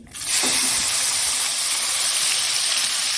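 Onion dropped into a hot cooking pan, a sudden loud sizzle that jumps up within a fraction of a second and settles into a bright, steady frying hiss that continues to the end.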